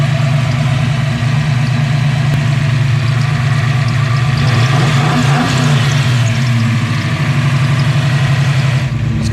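A Ford 387 stroker V8 built on a stock 351 Windsor block with stock pistons and rods, fitted with Mac mufflers, idles loud and close with a steady, slightly lumpy rumble that stays constant the whole time.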